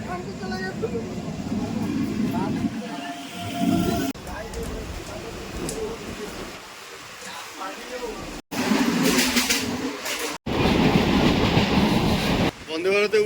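A Bangaon–Sealdah local train runs along the track with a steady rumbling roar and rhythmic clickety-clack of the wheels, loud and close, broken by a couple of brief dropouts, with faint voices in the carriage.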